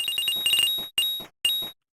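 Video game money pickup effect: bright, high chiming blips in quick rapid bursts, then two separate single chimes after short silences, clean and fairly loud with no talk.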